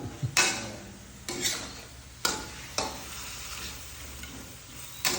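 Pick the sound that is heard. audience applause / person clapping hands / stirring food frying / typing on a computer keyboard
stirring food frying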